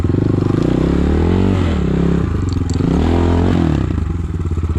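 A Rottor Puncher 250 motorcycle ridden through a forest, its engine droning loud and close throughout, with revs rising and falling in waves and some scraping and clatter alongside.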